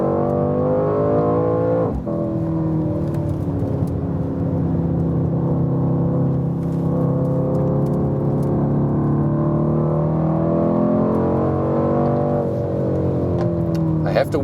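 Mercedes-AMG C63 S Coupé engine while cornering, a steady loud drone with shifting pitch as revs rise and fall, one brief dip around the second mark, heard from inside the cabin with no talking.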